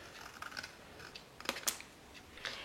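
Scissors snipping through folded paper while making a place-card gift holder, a few short, sharp cuts near and fairly quiet, with a brighter snip partway through and a softer one near the end.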